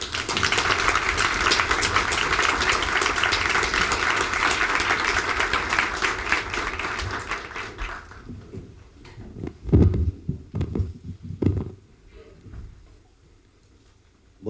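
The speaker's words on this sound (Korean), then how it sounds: "큰 박수로 고려대학교 정진택 총장님 무대 위로 모시겠습니다" A large audience at a Korea University president's honorary doctorate ceremony applauds as he is welcomed onto the stage, a dense sustained clapping that fills the hall for about eight seconds before fading into scattered footsteps and stage thumps.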